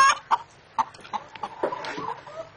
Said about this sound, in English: And the beautiful chickens.